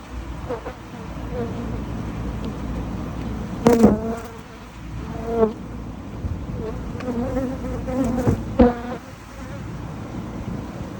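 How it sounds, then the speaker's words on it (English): Steady buzzing from many honeybees during a hive removal from a house in Manassas, Virginia, with a few louder close passes rising and fading, and a murmur of voices beneath. "Busy bees."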